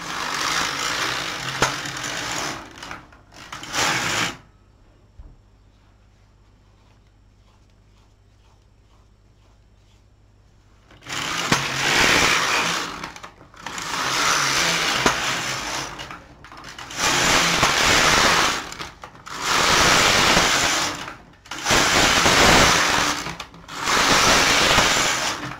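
Rows being knitted on an LK 150 knitting machine for a size 44 yoke sweater: repeated loud whooshing carriage passes, each a few seconds long with brief gaps between, after a stretch of near silence with faint clicks.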